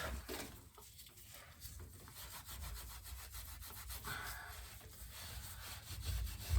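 A Scotch-Brite pad scrubs steadily back and forth on a rear brake part from a Ford Escort RS Turbo, giving a continuous close, raspy rubbing with a regular stroke rhythm and no talk.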